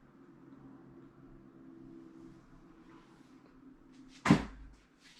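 A sliding glass tub door in a bathroom is moved and gives one short knock, close by, near the end. Before it there is a quiet low hum.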